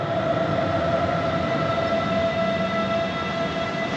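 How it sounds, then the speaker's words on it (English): A German railway train rumbles past in a continuous, steady roar, fairly loud and close, with a faint sustained tonal whine riding over it. "This could actually be my train, is it?"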